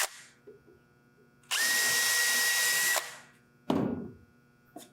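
A power drill bores a pilot hole with a 1/8 inch bit into a 1x6 wooden framing board, one loud, steady whir of about a second and a half, followed by a shorter burst, alone and close.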